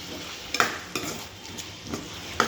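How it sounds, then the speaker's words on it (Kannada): Chopped vegetables with coriander powder and vermicelli fry in oil while being stirred, a steady close sizzle broken by a few sharp spoon scrapes and clinks against the pan. "ಎಲ್ಲನೂ ಎಣ್ಣೆಲಿ ಫ್ರೈ ಆಗಬೇಕು"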